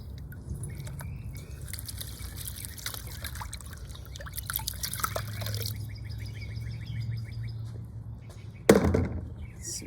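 Paydirt dropped into water in a gold trap: a steady trickling, bubbling wash over several seconds, ending in a louder splash-like burst near the end.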